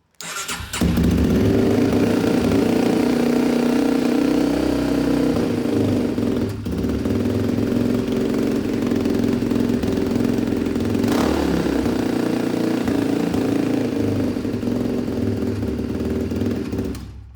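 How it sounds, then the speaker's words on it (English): A 2004 Polaris Predator 500 ATV engine, cold and running on choke, starts up and settles into a loud, steady, close idle with a few brief blips in the note, and no voices over it. "I'll just give it a little bit of choke."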